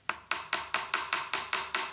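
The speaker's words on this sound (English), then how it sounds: "if you come in with your hard surface and a little light tap of a hammer" Light hammer taps on bent wire resting on a hard surface while shaping a paper clip charm, eight crisp, evenly spaced metallic clicks close by, with no talking.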